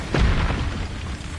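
An explosive spell going off in the Hogwarts Legacy video game: one loud booming blast with a deep low-end thump that swells quickly and then rumbles away over about a second.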